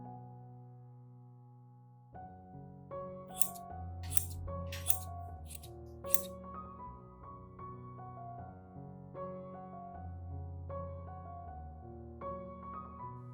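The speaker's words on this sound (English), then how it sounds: "The scissors will glide smoothly and cut cleanly right away." Scissors snip through a plastic bag, paper or tissue in several quick, crisp cuts over steady background music.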